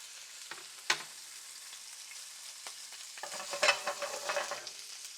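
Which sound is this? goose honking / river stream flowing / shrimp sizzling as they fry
shrimp sizzling as they fry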